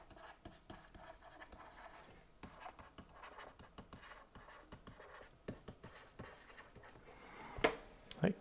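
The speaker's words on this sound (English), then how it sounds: "So let's write that." Chalk or marker writing on a board during a fluid mechanics lecture, a steady run of faint scratchy strokes and taps, with a couple of sharper knocks near the end.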